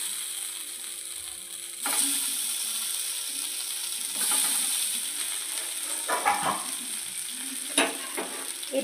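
Fish pieces dropped one by one into a pan with a little oil, each hitting with a burst of sizzle that settles into steady frying, plus a few clinks and scrapes.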